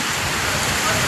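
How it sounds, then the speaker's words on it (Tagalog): Heavy rain pours down in Dubai, a dense, steady hiss of water drumming on surfaces, loud and unbroken throughout the short moment. "binuhos na ang malakas na ulan"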